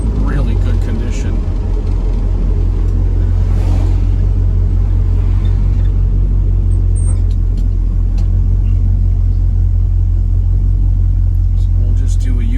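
Rust-free 1968 Chevrolet Camaro SS in good condition driving, its engine giving a steady deep rumble with road noise and a strong low drone, recorded from inside or close to the car.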